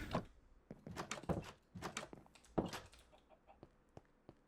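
Minecraft chickens making short clucks and scuffling clicks in an irregular series, fairly close and clear at first and fading to quieter ticks, with no speech.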